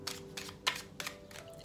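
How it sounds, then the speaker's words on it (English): A card deck being shuffled for a card reading: soft, crisp riffling bursts come in a rough rhythm, about one every third of a second, quiet and close, with no speech. "We're going to shuffle"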